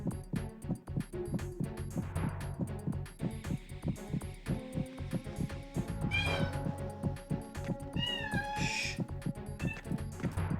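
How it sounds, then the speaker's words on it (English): A house cat meows repeatedly in the background, several short rising calls over dense, loud video game music and effects from Metal Gear Solid 2, with the meows coming through clearly in the second half. "Sorry, that's my cat in the background."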